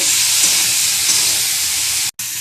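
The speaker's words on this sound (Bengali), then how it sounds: "পাঁচ ফোড়ন লবণ হলুদ দিয়ে দিয়েছি ভালো করে সবজিটাকে কষিয়ে নেব" Vegetables fry with panch phoron, salt and turmeric in a hot pan, giving a loud, continuous sizzle close up that stops briefly just before the end.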